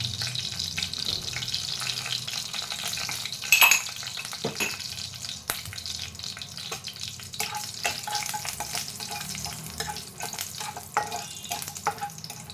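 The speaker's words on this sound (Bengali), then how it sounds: "তেলটা গরম হয়ে গেছে, এটাই দিলাম 2টো তেজপাতা আর গোটা গরম মশলা, আর তার সাথে দেব 2টো শুকনো লঙ্কা" Bay leaves, whole garam masala and dried red chillies dropped into hot oil, with a crackling sizzle, a sharp burst of spattering early on, scattered spoon taps and scraping against the pan.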